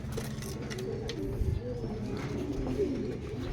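Pigeons at a racing-pigeon training loft coo in low, repeated rolling calls, fairly close, with occasional soft voices and movement in the background.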